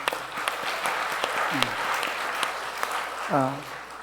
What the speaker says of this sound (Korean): 우리 축하한다고 박수 한번 보내겠습니다.